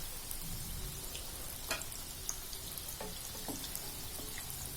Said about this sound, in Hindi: इसको थोड़ा और गोल्डन ब्राउन करने तक हम इसको फ्राई करेंगे। मैंने डीप फ्राई किया है